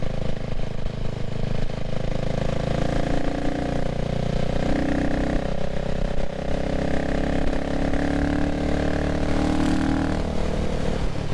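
A CCM Spitfire Six motorcycle ridden on the road at moderate, restrained revs while running in, with a steady close engine drone and wind that swells slightly as it overtakes.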